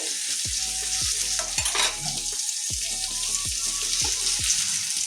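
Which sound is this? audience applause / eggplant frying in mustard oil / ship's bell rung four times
eggplant frying in mustard oil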